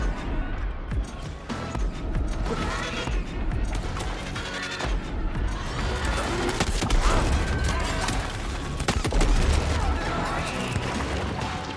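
Gunfire in the video game Shadow Warrior 3, dense and loud bursts of shots and crashing impacts hammering away without a break, with a voice talking through the barrage.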